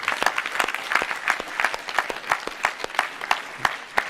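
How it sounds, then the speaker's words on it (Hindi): An audience claps at a Vedic yajna talk, a steady run of sharp, evenly spaced claps lasting about four seconds at moderate loudness, with no voices over it. "जोरदार ताली बजाओ"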